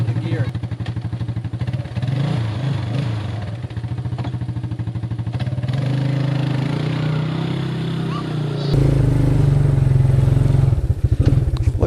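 A Suzuki LT 250 4x4 quad's small engine runs with a loud, rhythmic thumping idle that rises briefly as it revs, then settles into a steady, fuller drone, close by with no talk over it.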